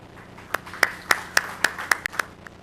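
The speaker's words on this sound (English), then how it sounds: "Please welcome Dave to the stage and give him a round of applause." Scattered hand claps, about eight distinct sharp claps in a slow, uneven rhythm, welcoming a panelist onto the stage at a 2013 subsea telecom industry conference; a small, sparse audience, fairly close and moderately loud.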